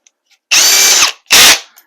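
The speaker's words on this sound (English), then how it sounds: "I usually like to get the smallest one that I have available and put it into my drill." A power drill fitted with a small bit drills into a wall in two loud, close bursts, a longer one followed by a short one, with silence between and no talk.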